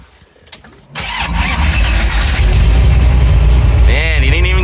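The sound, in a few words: 1970 AMC AMX muscle car engine starting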